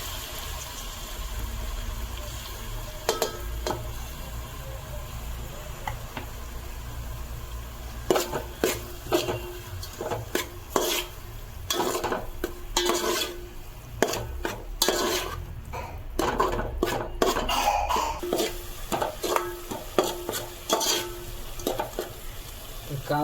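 Chopped onion frying in a pan for Mumbai street-style butter pav bhaji, with a steady low sizzle broken by bursts of scraping, clattering stirs from a spoon against the pan, close and fairly loud.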